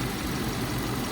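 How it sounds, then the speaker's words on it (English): A car engine idles steadily after fresh coolant and new oil have gone in, a continuous low, even rumble with no break in rhythm and no voices. "I've got the car running"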